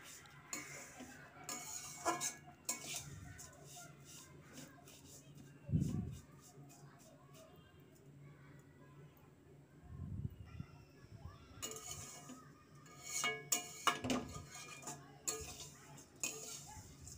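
A spoon stirring vermicelli frying in a pan, with scattered soft scrapes and metallic clinks against the pan, close but quiet, separated by stretches of near silence.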